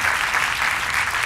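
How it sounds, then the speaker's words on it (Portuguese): A television studio audience bursts into applause for a guest: a thick, continuous roar of many hands clapping at once, loud and even from start to finish. "um aplauso para a Joana"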